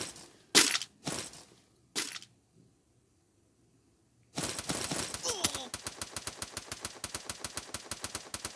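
Gunfire in the Free Fire video game: a few separate loud shots, a brief pause, then a long rapid automatic burst of evenly spaced shots with breaking-glass clatter mixed in.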